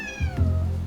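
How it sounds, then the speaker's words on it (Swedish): A cat meows once, close and clear, with a falling drawn-out cry outdoors on an abandoned Japanese island, a low rumble underneath and no talking. "Det är kattarmén här utanför som vaktar."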